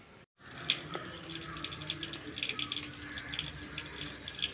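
Water running from a household tap, a steady continuous splash with small bright droplet clicks, fairly close and alone after a brief silent start.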